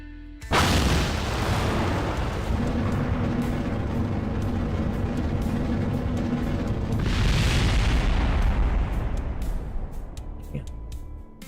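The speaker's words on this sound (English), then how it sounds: "Fuel tanks popped again, dudes." A rocket's fuel tanks blowing up in a spaceflight-building video game, heard as a loud, sustained rumbling explosion that swells again partway through before slowly fading.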